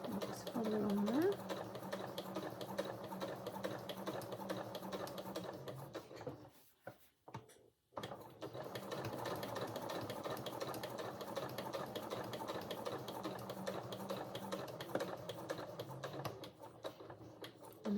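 A sewing machine stitches a dress, running steadily with a rhythmic mechanical whir, pausing briefly near the middle for a back stitch before resuming close by; a voice talks at times over it.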